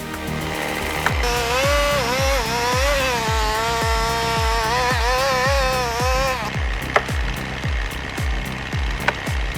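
A large chainsaw running hard while cutting into a tree, a loud sustained engine whine that shifts pitch under load and then drops back, over a steady pulsing rhythm and a few sharp cracks of wood.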